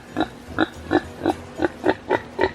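Pigs on a farm, with a visiting breeding pig among them, grunt in a regular rhythm of about eight short, close, evenly spaced grunts.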